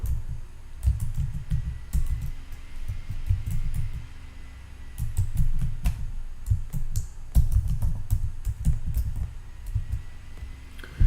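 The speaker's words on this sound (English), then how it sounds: "I'll type it in one last time here before." Fingers type on a computer keyboard nearby in uneven bursts of clicking keystrokes with short pauses between them, over a faint background hum and no talking.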